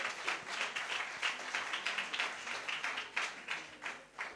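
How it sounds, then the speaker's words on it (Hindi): Scattered, rhythmic clapping from a modest audience at a Hindi youth gathering at the Nehru Centre welcomes someone to the stage, distinct individual claps rising and falling over several seconds. "तालियों के साथ एक बार देवांश झा का स्वागत हो।"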